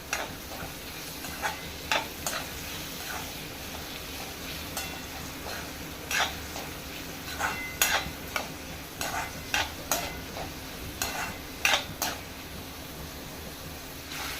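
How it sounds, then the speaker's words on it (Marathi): Onion sautéing in oil in a pan for a Maharashtrian dry chicken dish, a steady soft sizzle broken by irregular scraping stirs of a spatula, close up and alone without voices. "कांदा सुद्धा तेलामध्ये परतून घेऊया"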